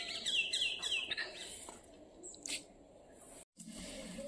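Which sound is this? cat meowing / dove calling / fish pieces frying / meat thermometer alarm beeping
dove calling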